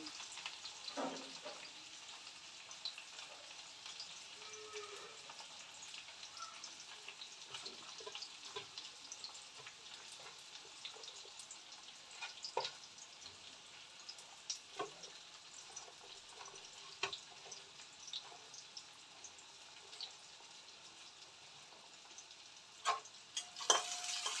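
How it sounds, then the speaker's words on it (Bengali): Chopped onion frying in a little oil in a pan while a mixed-fish dish is cooked, a steady soft sizzle running throughout with occasional small pops and clicks, faint and close. "তেলের মধ্যে দিয়ে দিলাম পেঁয়াজটা"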